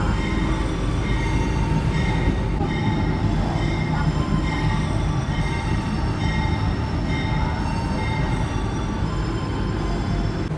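The Pasundan train arriving at Madiun station rolls in with a steady, loud rumble of wheels and carriages on the rails, alongside a faint metallic squeal, filling the whole stretch without pause.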